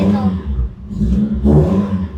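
A Maruti Gypsy petrol engine with an unsilenced aftermarket exhaust revs loudly nearby, two throaty surges rising and falling over a couple of seconds, with no voices over it.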